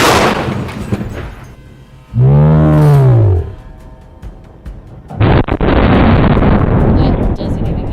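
A millimeter howitzer artillery gun fires, and a sudden loud broadband blast starts partway through and rolls on for a few seconds. Earlier there is a drawn-out roar-like cry, and people talk around it.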